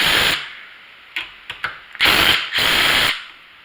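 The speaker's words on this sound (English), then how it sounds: "now we're going to take off these two long bolts using a impact gun" Impact gun taking two long bolts off a starter motor, firing in loud broadband bursts: one at the start, a few short taps mid-clip, then two longer sustained runs near the end, with no voices.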